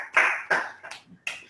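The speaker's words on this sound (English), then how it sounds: "I think we should clap." A few people clapping their hands at a young innovators meeting: four sharp, separate claps spaced over about a second and a half, fairly close and alone, with no talking.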